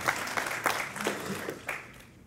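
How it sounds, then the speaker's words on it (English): Guests at a Fort Valley State University scholarship banquet give a short round of applause, with several distinct louder claps standing out before it fades. "Give him a round of applause."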